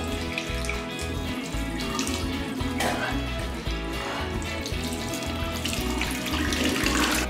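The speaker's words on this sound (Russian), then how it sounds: "А теперь умываться." Tap water runs steadily into a sink for morning face washing at home, a continuous splashing flow with no voices over it.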